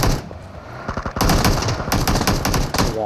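Loud rapid bursts of automatic gunfire in a shooter video game, fired from a moving car, with several close, sharp volleys and short gaps between them.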